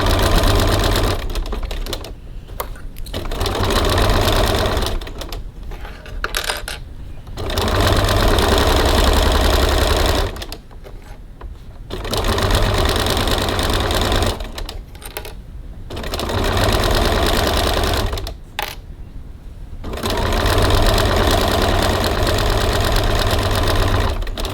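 Sewing machine topstitching with a long 3.4 stitch length, running in several steady loud bursts with short pauses between, each burst a dense mechanical whir close by, no talking.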